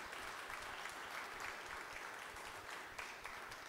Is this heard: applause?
yes